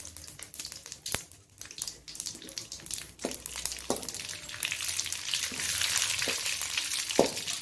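Mustard seeds and dried red chilies frying in hot oil for tamarind rice, a soft crackling sizzle with a few sharp pops and taps, building slightly louder toward the end.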